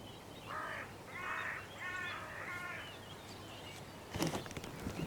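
Crows returning cautiously to a decoy give a short series of four harsh caws at moderate distance, followed by a brief rustling burst of nearby noise.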